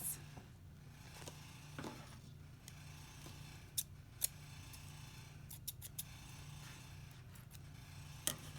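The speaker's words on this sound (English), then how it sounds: "I'm going to cut a piece off." Scissors cut a piece off a Halloween craft material, a handful of sharp, brief snips spread across a quiet room hum, with only faint talk.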